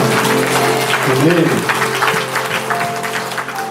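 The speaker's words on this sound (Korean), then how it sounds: "성령 하나님께 영광의 박수를 드리겠습니다" A congregation claps during a church praise concert, broadband applause running the whole time over sustained music, with a voice audible partway through.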